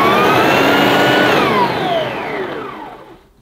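A Karcher Ranger by Sebo upright vacuum cleaner switched on while tilted to one side, its loud motor whine sweeping in pitch and then winding down and fading.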